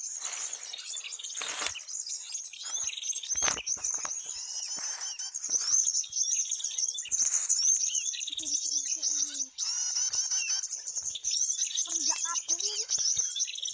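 Captured prinia birds chirp in rapid, high, thin calls close by, a busy continuous twittering with scattered clicks and handling noise.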